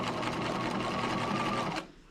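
A sewing machine runs steadily while stay stitching a top, giving a continuous close whirring hum that cuts off abruptly near the end, followed by quiet.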